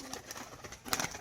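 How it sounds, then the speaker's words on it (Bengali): Crested male pigeon with white feathered feet, a performing tumbler breed, giving faint cooing and soft wing flutters amid light rustling, close by, with a slightly louder burst near the end. "ঝুটি পায়রা নর, এটা সেলের জন্য থাকবে।"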